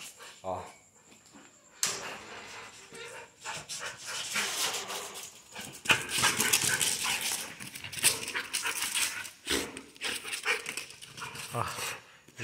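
A dog pants and whimpers nearby in a home, with short breathy huffs and soft whines under a person's talking and bursts of rustling movement.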